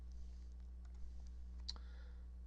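Computer mouse clicking while copying and pasting code, a few quiet, sharp clicks spread over a low steady hum, with one brighter click near the end.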